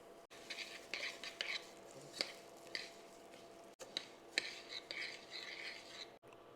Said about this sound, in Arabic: حمر الشعريه يا جماعه، وبعد كده هنضيف عليها الرز